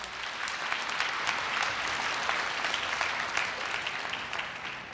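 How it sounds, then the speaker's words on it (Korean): Large audience at a university entrance ceremony applauding to welcome a guest speaker, sustained even clapping filling the hall throughout. "큰 박수로 맞이해 주시기 바랍니다"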